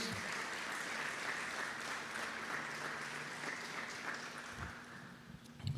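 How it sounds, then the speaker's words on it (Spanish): A church congregation claps during a Spanish-language Sunday worship service, a steady, even wash of applause lasting several seconds at moderate loudness, with no one talking over it. "Un fuerte aplauso a nuestro Dios."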